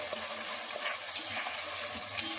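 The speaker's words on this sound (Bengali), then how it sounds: "মশলাটা ভালো করে কষিয়ে নিচ্ছি।" Spice paste with onion, garlic, ginger, tomato and green chilli sizzles and fries in a pan while being stirred, a dense, steady crackle with occasional scraping, close up and without speech.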